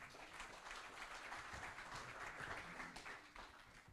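An audience at a Grand Prix de France motorcycle racing press conference applauds rider Louis Rossi, a steady, fairly faint patter of clapping from many hands throughout.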